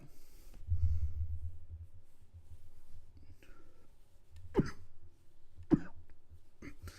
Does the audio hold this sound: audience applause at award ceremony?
no